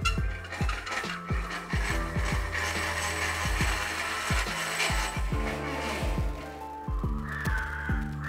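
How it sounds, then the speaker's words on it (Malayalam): A chicken grilling robot's flipping mechanism moving, with rapid repeated mechanical clicks and ratcheting knocks in a steady rhythm over a constant motor hum, close and continuous. "അതായത് തിരിച്ചും മറിച്ചും വെക്കാൻ വേണ്ടിയിട്ടുള്ള മൂവ്മെൻറ്റാണിത്"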